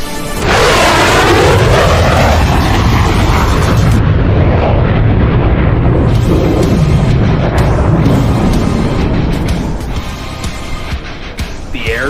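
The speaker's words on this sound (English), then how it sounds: "Ladies and gentlemen, the Super Hornet photo pass." An F/A-18 Super Hornet makes a photo pass in a virtual airshow game, a loud roaring jet rush that swells to a heavy, sustained rumble before easing off toward the end.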